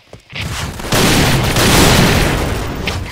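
Grenade blast in the shooter game Point Blank: a sudden loud boom with a sustained roaring, crackling tail, close and dense, with a quick scattered pop just before it.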